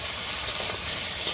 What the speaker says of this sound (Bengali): এবার এই বেছে রাখা ঘিলুগুলো দেবো। ভাজা ভাজা করে নিই ঘিলুটা হালকা।